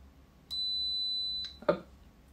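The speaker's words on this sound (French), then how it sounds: "quand je vais passer le badge, la petite doorbell normalement devrait sonner" Chime of an EZVIZ HP7 video doorbell set off by a badge scan: a steady high electronic tone held for about a second, then a short burst of brighter clatter, faint and alone in a quiet room.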